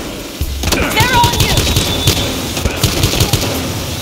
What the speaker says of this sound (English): Am I shooting at Leo, bro